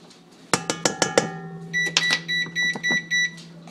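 A kitchen oven chirps as it finishes preheating: a few sharp clicks or taps, then a run of five or six short, loud electronic beeps in even rhythm, close by.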